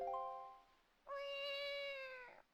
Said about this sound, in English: He just makes a cat sound.